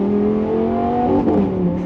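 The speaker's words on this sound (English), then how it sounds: "Significantly rougher getting up to speed in Corsa mode." A Lamborghini Gallardo or Huracan in Corsa mode accelerates hard, its engine a loud, rough, steady drone with a rising tone heard close from inside the car, alone without talk.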